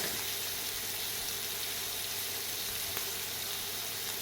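Broth is poured into a hot pan of browned, slightly burnt pork ribs, giving a steady, loud sizzle and bubbling hiss throughout with no talking.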